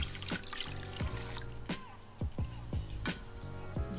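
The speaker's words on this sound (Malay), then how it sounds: "Yang ni saya rasa kena tambah lagi air." Water trickles and pours into a pot of rice being cooked for yellow nasi kerabu, a soft, steady flow punctuated by several light knocks and clinks.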